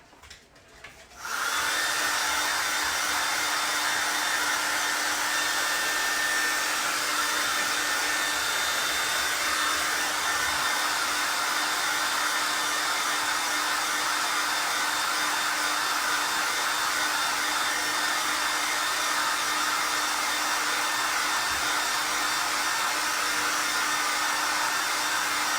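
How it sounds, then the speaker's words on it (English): A hair dryer blow-dries wet paint on a canvas, switching on after a brief moment and then running as a loud, continuous steady whir close to the mic with no talking. "Let's blow dry that, and we'll move on to that last part."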